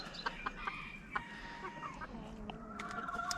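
A serama rooster clucks inside a chicken coop, short sharp calls at an uneven rhythm with other birds faintly around it and no voices heard.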